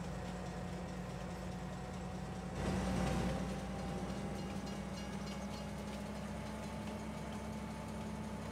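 A train in the farming game Farming Simulator 22 rumbles steadily along with a low, continuous engine drone, swelling briefly louder before settling back to an even hum, with no talking.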